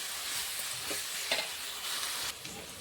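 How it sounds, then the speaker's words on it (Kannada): Chili powder masala sizzles softly in a pan while being fried and stirred for bun laddu, a fairly quiet, steady frying hiss broken by a few scraping strokes of the spoon. "ಇವಾಗ ಇದು ಖಾರನ ಸ್ವಲ್ಪ ಫ್ರೈ ಮಾಡ್ಕೊಂಡು ತೊಗೊಂಡ್ರಿ."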